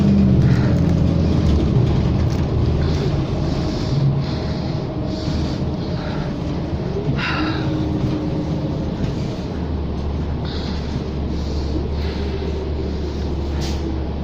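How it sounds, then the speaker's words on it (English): Interior ride on a New Flyer Excelsior XD40 40-foot low-floor city bus in Edmonton: steady rumbling road and engine noise with faint rattles and occasional clicks throughout, no talking. "Enjoy the bus ride, folks."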